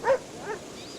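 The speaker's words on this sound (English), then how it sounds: "sand is a perfect place for Dan Ladinsky to take his dog for a run along the sea, a chocolate lab named Hafez." A chocolate Labrador barks once on a sandy seaside beach, a single close, fairly loud woof followed by a softer second yelp, with faint surf-like background noise.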